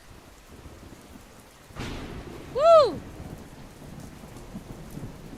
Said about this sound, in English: The rain makes it so dark.